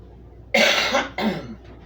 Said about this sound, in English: Excuse me, I didn't mean to cough.